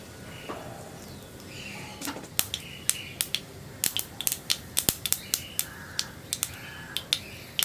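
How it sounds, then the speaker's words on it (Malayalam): Mustard seeds splutter in hot oil while tempering for a Kerala thattukada-style coconut chutney, a quick irregular run of sharp pops and crackles that starts sparse and grows busier, close and alone. "ഇനി കടുകൊന്ന് പൊട്ടി വരട്ടെ"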